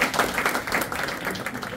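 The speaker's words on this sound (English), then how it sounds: "Let's give a big round of applause to Sara and Adriana." Audience applause for two presenters at a science education session, a dense, steady wash of many hands clapping that carries on without pause for nearly two seconds, moderately loud and close.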